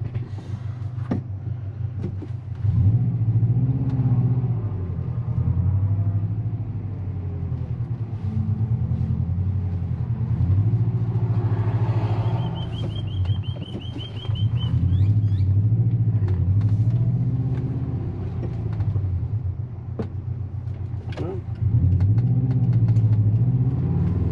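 A 2004 Subaru Forester XT with a GFB Hybrid blow-off valve fitted runs steadily, its low engine rumble close and continuous with slow swells in revs and a brief thin whistle partway through.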